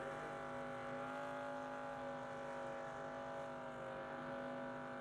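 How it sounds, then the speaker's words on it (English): Taylor Gray's number 17 ARCA race car on General Tires holds a steady, droning engine roar during a burnout at Dover International Speedway, a continuous even tone with no break. "Now those General Tires taking some punishment on this burnout too, folks."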